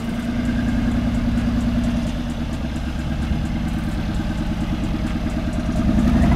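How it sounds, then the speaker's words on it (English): A Mercedes G-Wagon SUV crawls in low range on an off-road test course, its engine giving a steady low rumble with a rhythmic clattering pulse, fairly close and loud, growing slightly toward the end; no speech. "the G-Wagon will drive with the low range activated only."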